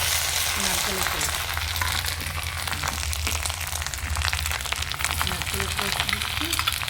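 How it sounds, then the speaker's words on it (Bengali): Onion and garlic paste sizzling in hot oil for a Bengali prawn and coconut curry, a steady crackling fry with faint stirring, close and continuous. "পেঁয়াজ রসুনের পেস্ট ভাজা হবে, পেঁয়াজ রসুন একটু ভাজা হবে"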